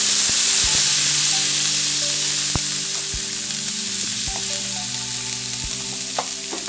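Ginger, garlic and chilies sizzling hard in a hot pan, a loud broad hiss that eases slightly over time, with several sharp clicks and knocks from a utensil stirring.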